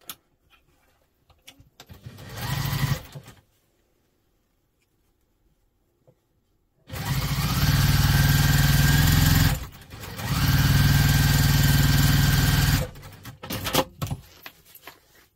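A sewing machine stitches a double-compartment crossbody bag, running loud and close in one short burst followed by two long sustained runs separated by a brief pause.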